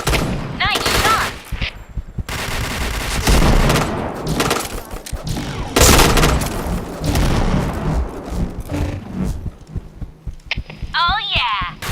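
Gunfire and shots in the shooter game Point Blank, sharp repeated bursts of varying loudness over a dense mix of game sounds and music, with people talking throughout.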